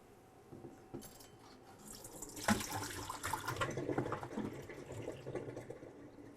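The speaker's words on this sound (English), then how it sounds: "I'm going to drain my apples." Cooked apples for skillet fried apples being drained, liquid pouring and splashing into a sink at close range, starting soft and swelling into a steady trickling flow.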